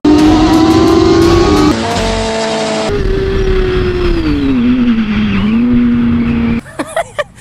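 A Mio i125 scooter fitted with an upgraded magneto engine runs loud and close, its engine note holding steady then dipping and rising through rev changes before cutting to a few sharp bursts at the end.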